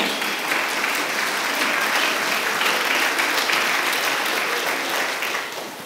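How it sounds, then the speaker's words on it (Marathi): Applause from a church congregation during a Marathi sermon, a dense, steady wash of many hands clapping that holds loud and even for several seconds before tapering slightly at the end. "टाळ्या वाजवायच्या असेल तर वाजवा"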